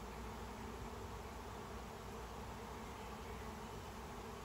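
Honeybee swarm moving into a nuc hive set on a pallet, a dense continuous buzzing drone from many bees that holds steady throughout, loud and close with no talking.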